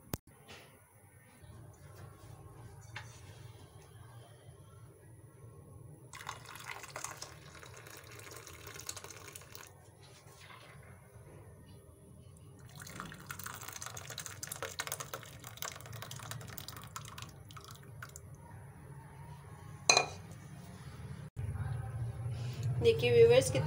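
Pink Kashmiri tea is dished out with soft trickling, splashing pours and light clinks, close by and fairly quiet under a talking voice, growing fuller toward the end.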